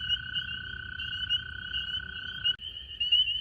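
Continuous high, buzzing trill of calling frogs, steady and sustained, with a brief break before it resumes.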